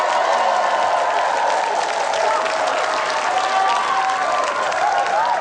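A studio audience on the Indonesian comedy show Opera Van Java applauds a singer with steady, dense, loud clapping and crowd noise that holds evenly throughout, a few faint voices mixed in.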